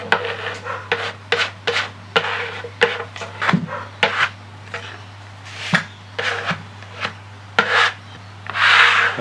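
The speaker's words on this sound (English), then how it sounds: "I've got a scraper now, I'll just make a nice little pattern." A scraper drags through a layer of PVA glue on a board during a 1936 Bush battery radio restoration, making a series of short, uneven rasping strokes close by, with no talking.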